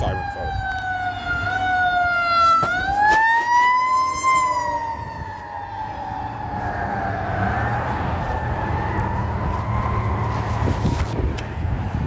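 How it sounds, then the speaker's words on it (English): Fire engine siren wailing loud and near at a street protest, its tone rising and falling in long sweeps over a rumbling vehicle engine, continuous throughout. "Y'all know sirens throw me off."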